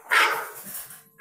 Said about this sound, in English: Dog agrees. Somebody's dog?